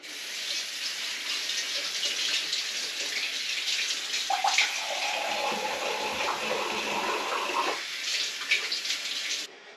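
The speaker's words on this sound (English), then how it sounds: "let me go ahead and wash my hands" Tap water runs steadily into a sink as hands are washed beneath it, a continuous close splashing hiss that shifts as the hands move through the stream and stops abruptly near the end.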